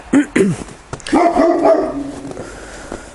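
A dog down below barks at the person it dislikes, two or three sharp, loud, close barks followed by a brief whining yip, with a quiet voice faintly in the background.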